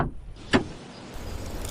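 A car door thunks shut once, sharp and close, against quiet surroundings as someone climbs out of a car stopped with a punctured front tyre beside an old graveyard, followed by faint outdoor ambience.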